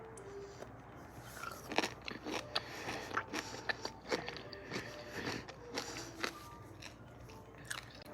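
Grillo's pickle spear being bitten and chewed up close, a steady run of crunchy bites and wet chewing sounds repeating throughout.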